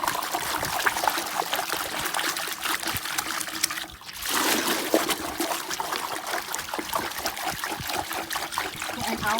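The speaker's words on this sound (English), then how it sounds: "So anyway, I'll do a bit more stirring." Liquid swishing and trickling as a hand stirs biodynamic preparation in water on a farm, a continuous rhythmic swirl with a brief lull midway, close and steady.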